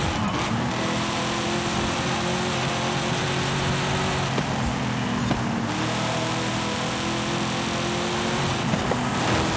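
A 1996 Chevy Impala driving in Forza Horizon 5, its engine droning steadily at a moderate level with slight shifts in pitch as it accelerates, heard alone without talk.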